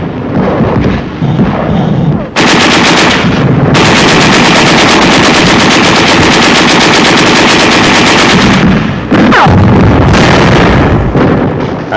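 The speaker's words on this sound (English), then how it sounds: "There is some machine gun fire and occasional shells" Archival 1945 wartime recording of the 3rd Army crossing the Rhine, with loud continuous machine gun fire and occasional artillery shell bursts, dense and distorted, heard through heavy broadband noise.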